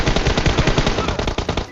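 Rapid automatic gunfire from the mobile battle royale game PUBG Mobile rattles in dense, steady bursts throughout, loud and close, with no voices over it.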